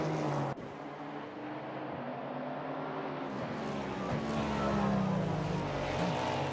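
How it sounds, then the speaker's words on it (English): Two Cadillac race cars battle in an Assetto Corsa sim racing endurance event at Spa. A steady, moderately quiet engine drone rises slightly in pitch and strength toward the end. "Both Cadillacs, so we are hearing some nice engine noises for battling."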